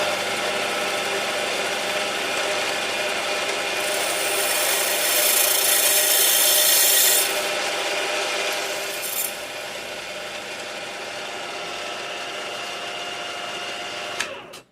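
A milling machine, used as a drill press to open holes to 1.8 mm on a model, makes a continuous whirring drone with a grinding, rubbing edge, swelling briefly mid-way, then a sharp click near the end.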